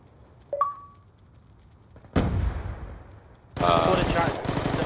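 Video game submachine gun fire: a brief early shot, then two sustained loud bursts of rapid automatic fire at close range.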